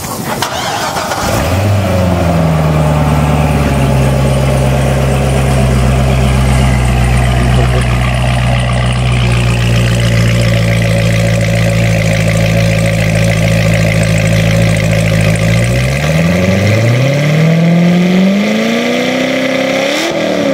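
A car engine cranks and catches, then runs loud and steady close by, with the revs climbing near the end.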